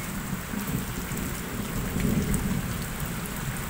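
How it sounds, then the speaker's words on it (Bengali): Heavy storm rain pours down hard and continuously, a dense close roar with low rumbling swells, loudest midway, and no voices. "এতটাই জোরে বৃষ্টি হচ্ছে যে বৃষ্টির আওয়াজে কিছু শোনা যাচ্ছে না।"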